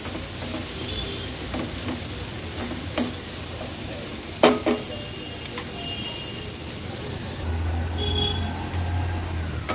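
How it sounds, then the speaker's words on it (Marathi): Sliced onion frying in oil over a lowered gas flame for an Agri-Koli style big prawn curry, a steady soft sizzle with a few sharp stirring clinks, continuous and close with no talk. "कांदा पण तेलावर छान शिजवून घ्यायचा आहे।"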